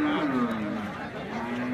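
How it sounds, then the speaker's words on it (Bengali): A cow with her bull calf at Hazratpur cattle market near Dhaka gives one long, low, wavering moo, close and loud over a busy background murmur. "এই পাশে একটা বাছুর সহ গাভী আছে"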